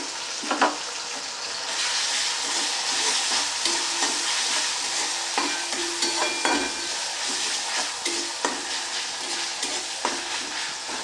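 Chopped tomato stirred and fried in a pan with spiced masala and a splash of water sizzles steadily, with a spatula scraping and clacking at intervals throughout.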